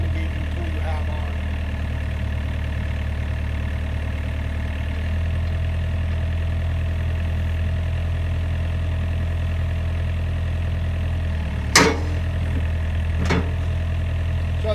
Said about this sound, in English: Exercising the boom and stick cylinders, and also the bucket cylinder or whatever ground engaging tool you have on.